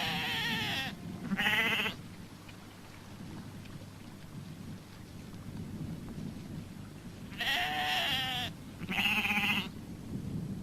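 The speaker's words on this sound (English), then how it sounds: "The new rams and selected ewes are confined in a 200-acre paddock for the 5 weeks of the tupping period" A flock of sheep, ewes and rams together in a large paddock during the tupping season. Four bleats come in two pairs, one pair at the start and one near the end, over a soft rain-like outdoor hiss.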